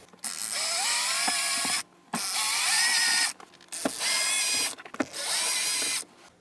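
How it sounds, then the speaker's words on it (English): A power driver backs Phillips head screws out of the console insert in a 2007-2014 GM truck, four loud, close whirring bursts of about a second each, separated by short pauses. "There are 4 Phillips head screws holding this console insert down. We'll go ahead and remove those."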